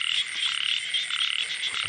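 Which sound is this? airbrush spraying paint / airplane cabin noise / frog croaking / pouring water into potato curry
frog croaking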